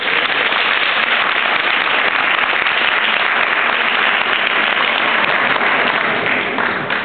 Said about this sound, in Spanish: Compañeros y compañeras, un aplauso de verdad para la gente de Breda